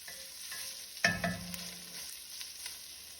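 Tomato paste cooking down in a pot for Tuscan bean soup, a quiet sizzle with a sharp scrape and stir of a utensil, faint and close, without talk.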